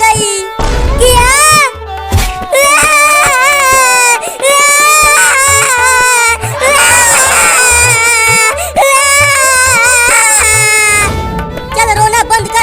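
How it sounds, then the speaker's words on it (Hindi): A person cries loudly, with wailing sobs that rise and fall in pitch almost without a break for about twelve seconds. The crying is close and harsh, with short pauses for breath. "चल रोना बंद कर"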